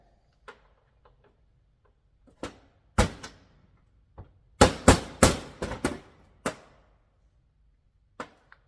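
A reloading crimping tool works a .38 Special cartridge with 158 grain lead semi-wadcutter hollow point bullets, making a series of sharp, close metallic clicks and taps, some spaced apart and some in a quick cluster, over near silence.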